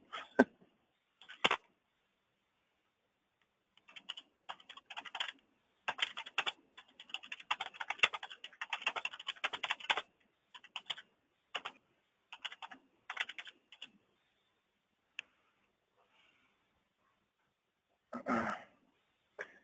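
Typing on a computer keyboard at a meeting comes in scattered bursts of quick, light key clicks, faint and close, with pauses between runs and no talk.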